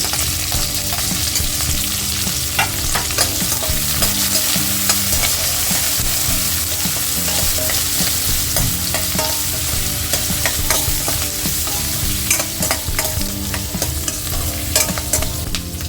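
Square-cut onion and green chili frying with ginger and garlic in a pan for gobi manchurian, a dense loud sizzle under continuous busy stirring and scraping, heard up close with no talk.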